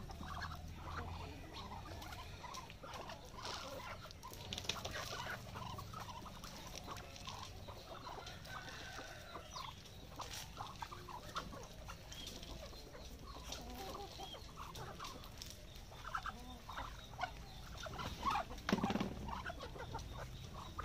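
Farm chickens cluck and scratch during a morning feeding in rural Davao, with soft patter throughout. The busy, low-level bird sounds run steadily across the whole stretch with no talking.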